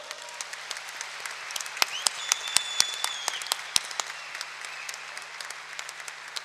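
Scattered applause at a Vatan Partisi party congress hall, with sharp individual claps standing out over a thinner sustained patter and a low steady hum underneath.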